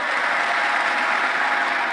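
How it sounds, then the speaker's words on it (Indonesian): A church congregation of men claps together in a steady, dense burst of applause that fills the room, close and loud, with no voices rising above it. "Tepuk tangan dulu kaum bapak."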